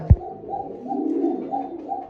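Pigeons give soft, repeated coos in a rolling low rhythm, with one brief knock near the start. The cooing is close and clear, and nobody speaks.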